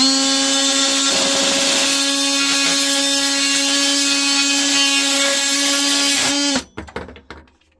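A cordless Dewalt 18V XR oscillating multitool cuts through plastic overflow pipe with a loud, steady, high-pitched buzz that runs unbroken for about six seconds, then cuts out abruptly, followed by a few faint clatters.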